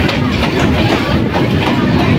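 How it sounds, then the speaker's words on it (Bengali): Kolkata Chakra Rail circular commuter train rolling past close-set houses in the Burrabazar area, a steady loud rumble with rhythmic wheel clatter filling the whole stretch, no talking over it. "এলাকা বড়বাজারের সেই বাড়িগুলোর একদম গায়ের ওপর দিয়ে চলে যাবে এই ট্রেনটা"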